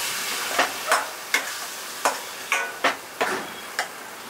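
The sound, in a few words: onions frying with tomato, chilli, ginger-garlic paste added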